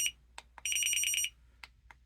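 Alarm mode of a Jugbow DT-61 dog training collar: a few short sharp beeps, then a continuous shrill pulsing tone lasting about half a second, then more isolated beeps, close and clear.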